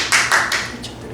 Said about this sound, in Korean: 저는 박수 쳐드리겠습니다